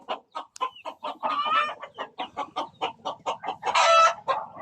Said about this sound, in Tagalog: Yan po yung tandang natin.